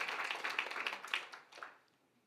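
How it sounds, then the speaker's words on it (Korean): Church congregation applause of thanks at a Sunday morning worship service: scattered hand claps that thin out and fade away to near silence within a couple of seconds. "감사의 박수."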